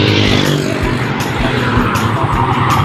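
A motorcycle goes by close and loud, a continuous rough engine roar with a droning tone that holds steady for the whole stretch.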